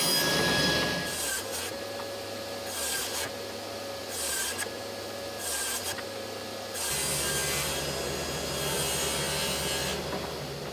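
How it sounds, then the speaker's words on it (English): A saw cuts large sheets of plywood into 48-inch strips for acoustic panels, a steady whining rasp that pulses with each pass and then holds a louder continuous cut, close by with no voices. "I'm going to set my saw to that and then cut both of those larger pieces of plywood into strips that are 48 inches long."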